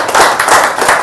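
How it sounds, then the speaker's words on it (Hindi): Audience applause at a talk by Dr Virender Thakur on success in Rain BNB, a dense, steady wash of many hands clapping, loud and close, filling the whole moment. "एक बार ज़बरदस्त तालियां हों"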